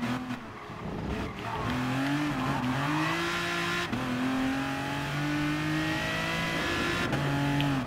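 An Aston Martin DBR9 GT1 race car in Gran Turismo Sport drones at high revs, its engine pitch climbing through gears with brief shift dips, steady and prominent with no voices.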